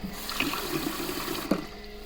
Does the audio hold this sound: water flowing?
yes